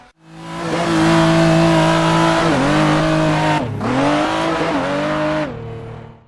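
A Toyota Supra drifting in the video game Assetto Corsa: the engine revs hard and holds high, dips with throttle lifts and gear changes, then climbs again, with tire noise under the loud, close engine note.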